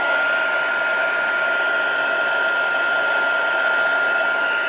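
A heat tool blows steadily and loudly to melt embossing powder on a handmade seaside-themed card, a constant airy whoosh with a strong fan whine throughout and no talking.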